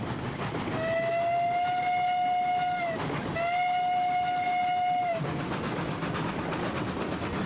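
Steam locomotive whistle in the video game Railroads Online, two long loud blasts with a short break between, over steady rolling rail clatter as the train pulls away.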